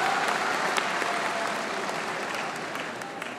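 A crowd audience applauds steadily, a dense wash of clapping that stays loud and slowly fades slightly over a few seconds.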